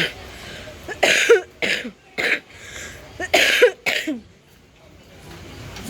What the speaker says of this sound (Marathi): कारण की खोकला लागतोय